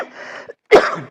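A single close cough, sharp and raspy, preceded by a brief throaty breath.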